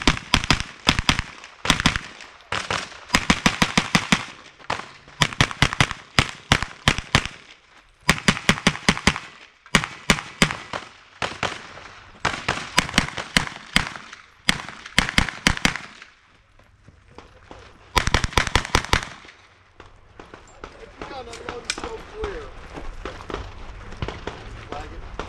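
Rapid strings of sharp gunshots from a Kriss gun on a shooting match stage ring out in quick bursts with short pauses, loud and close, then fade to range chatter as people talk.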